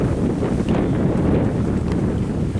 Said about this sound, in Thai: ลมมันพัดสะพานมันแกว่งครับ